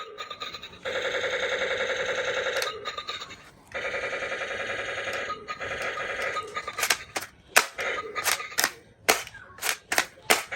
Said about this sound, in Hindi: ये है असॉल्ट राइफल।